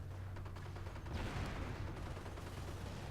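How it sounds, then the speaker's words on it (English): Grenades going off in a tank battle video game with Shermans and Pershings: faint, distant rapid popping and crackling blasts layered over a constant low engine hum, with no talk. "More grenades going off on these."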